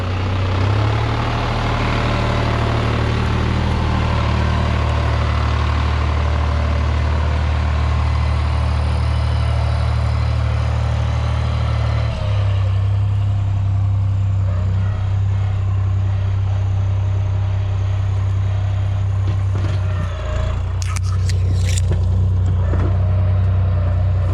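A New Holland T580B tractor engine runs at about 1300 rpm with a levelling blade fitted, giving a continuous close, loud, low idling drone with a brief dip in pitch midway.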